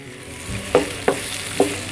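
Egg and chopped ridge gourd frying together in a pan with a soft, steady sizzle, broken by three sharp scrapes of a spatula stirring; no talking.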